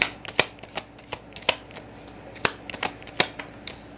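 Tarot cards being shuffled by hand during a reading, a run of crisp riffling snaps and soft slaps at an uneven rhythm, close and fairly quiet with no talking.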